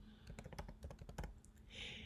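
Someone types a church name on a computer keyboard while laying out a Christmas flyer in Photoshop: a quick, close run of clicking keystrokes, then a brief soft hiss, with no voice.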